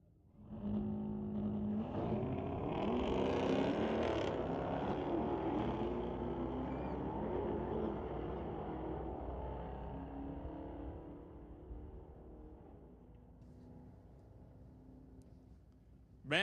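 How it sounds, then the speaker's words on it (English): A Dodge Hellcat launches at a Friday night street-legal drag race at Mission Raceway Park. A rising, whining turbo sits over the engine roar, which swells loudly and then fades as the car pulls away. "You hear that turbo whine underneath that Dodge."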